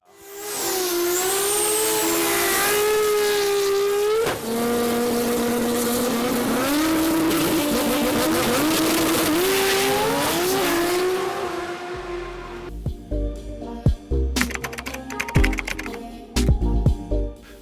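A Dynamite Performance Barra-powered drag car, its factory-block engine making over 2,000 horsepower, revs hard with rising and falling pitch for about twelve seconds, loud and close, then cuts to sharper bursts and clatter.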